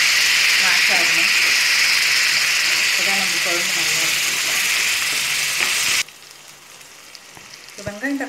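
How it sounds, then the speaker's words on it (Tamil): Onions and tomatoes fry in a pan for kuzhambu, a loud, steady sizzle and hiss with occasional stirring, a voice speaking over it before the sizzling suddenly stops. "இப்போ வெங்காயம் தக்காளி நல்லா வதங்கிடுச்சு"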